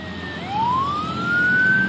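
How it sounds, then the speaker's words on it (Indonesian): An ambulance siren wails, its pitch sliding steadily upward and holding high, heard over the hum of traffic and road noise. "Oke, ada ambulan Hi-S"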